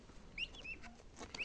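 High, thin chirps from turkey chicks kept with other poultry at a farm, scattered short peeps repeating unevenly over a soft background, fairly close.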